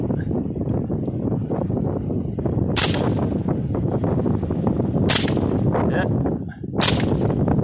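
Several Smith and Wesson 15/22 rifle shots fired outdoors at night, sharp cracks spaced a couple of seconds apart, loud and close, with a voice calling out between them.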